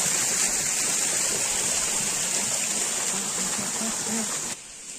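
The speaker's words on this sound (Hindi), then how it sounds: "ये मेरे टकले में पड़ रहा है पानी बार बार" Water pours from a waterfall at Tamiya Hills, a loud close steady rushing splash that drops off abruptly near the end.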